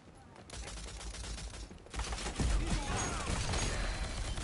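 Rapid gunfire from a shooter video game, a dense continuous burst that starts softly, breaks briefly near the middle, then resumes louder and heavier with crashing impacts.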